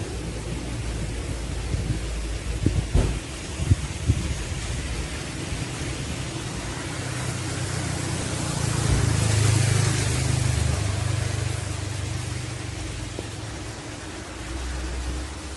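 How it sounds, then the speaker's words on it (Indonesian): Light drizzle falls at an outdoor rest area and viewing tower above Lake Toba, a steady close hiss of rain throughout with faint low rumbles and a few soft knocks, no one speaking. "cuacanya lagi hujan. Ini masih gerimis ya, teman-teman."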